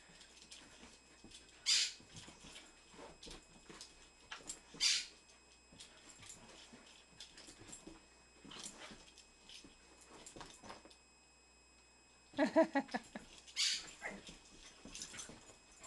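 Dogs, including a 9.5-month-old, play indoors with scattered short whimpers, yips and soft barks between quiet stretches, with a cluster of louder sounds near the end.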